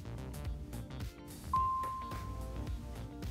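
Apple Watch hourly chime in the bells setting: a clear bell tone strikes once and rings out with a long decaying sustain, heard over other ringing tones.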